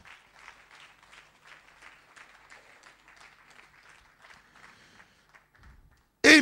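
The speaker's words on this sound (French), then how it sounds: "Applaudissez Jésus" A church congregation clapping in a soft, rhythmic, fairly distant patter that fades out toward the end before a sudden loud burst at the close.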